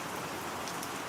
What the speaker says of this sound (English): The rain stayed for a while.